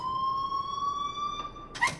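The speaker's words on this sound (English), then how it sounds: "please turn off that alarm since that's your job" An alarm rings in the video game Life is Strange, a steady electronic tone held across the whole stretch at moderate volume, ending in a brief louder burst of noise.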